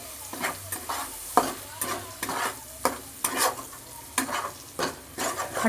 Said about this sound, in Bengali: তেল তো ওই জন্য কড়াইতে একটু ফুটফাট ফুটফাট আওয়াজ হচ্ছে